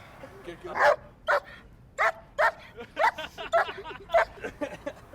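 A dog barks repeatedly at close range, about ten sharp barks in an uneven rhythm over quiet background.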